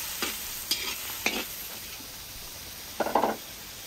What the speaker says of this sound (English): Okay, so the onion goes on the fire. I put just a little bit of oil, you know, just to fry it,